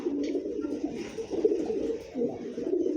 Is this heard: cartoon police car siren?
no